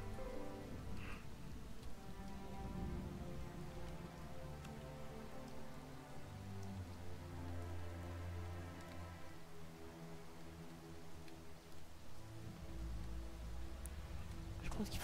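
Rain falls steadily in the fantasy exploration video game XING: The Land Beyond, a constant soft patter layered with low ambient music tones, with a faint voice briefly present.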